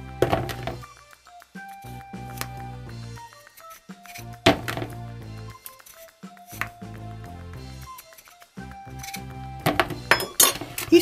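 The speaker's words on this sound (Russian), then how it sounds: "Теперь берем картошку. Я ее режу крупно." A knife chops potatoes into large chunks on a cutting board, giving irregular dull thunks and a few clinks against dishes. Background music plays underneath, and no one speaks.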